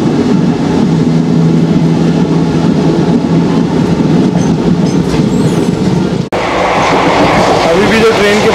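Train wheels grinding and rattling continuously, as if something is stuck or stones are caught under the train, a loud, steady metallic roar heard from on board that shifts in tone partway through.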